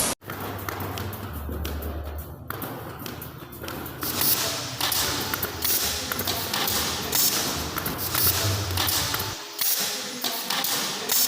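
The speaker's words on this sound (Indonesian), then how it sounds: "Nah, ini handle sedang ditembak menggunakan pakai U19 lebih kuat." A staple gun fires U19 staples into the handle of a woven rattan laundry basket. Several sharp, separate shots land at irregular intervals over steady workshop background noise.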